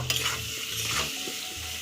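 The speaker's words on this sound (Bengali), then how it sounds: "আলুটাকে আমি ভেজে নেব।" Potato pieces frying with salt and turmeric in a pan, a loud close sizzle broken by repeated scraping stirs of a spatula, steady and without any voices.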